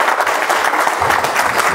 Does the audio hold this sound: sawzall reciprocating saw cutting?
no